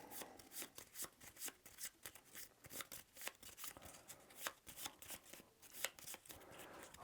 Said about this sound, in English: So what I'm going to do is shuffle up all of these encounters